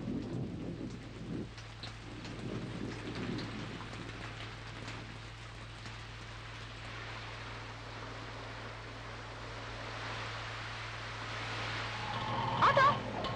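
Heavy, steady rain hissing down with a low rumble of thunder underneath, continuous throughout, with faint voices briefly audible.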